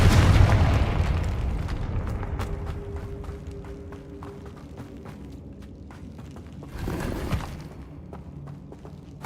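A Confringo blasting spell in the Hogwarts Legacy video game gives a sharp burst that blends into game noise. Faint thuds and scattered pops come through, with a second loud blast swelling near the end.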